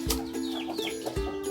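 Chicken suffering from a snoring respiratory condition clucking close by, a few short throaty clucks over a faint steady hum.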